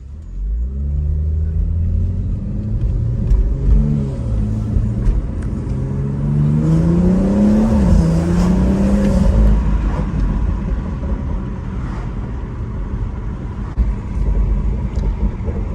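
BMW B58 inline-six fitted with a Paradigm Engineering turbo inlet, revving through short-shifted gear changes, a steady loud engine drone with rising and falling pitch sweeps and a deep low rumble throughout.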